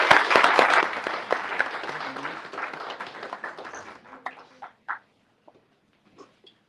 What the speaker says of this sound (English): Now the claps, please.